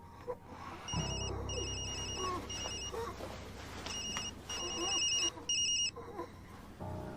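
A telephone rings in repeated bright electronic bursts with short gaps between them, heard fairly close over a low steady background hum.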